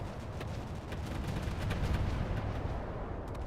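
Dense, continuous turret gunfire rumbling from naval combat in Battlestations: Pacific, a steady wash of overlapping distant booms and crackle with faint sharper reports on top and no pause.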